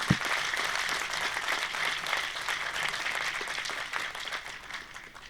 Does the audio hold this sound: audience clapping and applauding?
yes